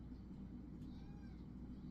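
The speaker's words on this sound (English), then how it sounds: "Stop your meowing over and over, silly." A faint, drawn-out cat meow rising and falling over a steady low rumble of background noise.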